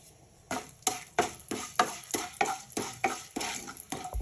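Urad dal roasts in a pan while being stirred: about ten quick, rhythmic scraping and rattling strokes close by, with no talking.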